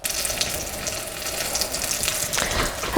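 A single bison meatball fries in hot oil, giving off a constant close sizzle and crackle that swells briefly near the end.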